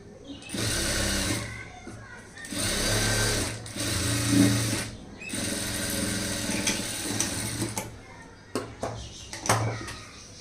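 Bursts of sewing machine top-stitching on a blouse, three long runs of rapid needle chatter separated by pauses, followed by shorter stitches and handling clicks near the end.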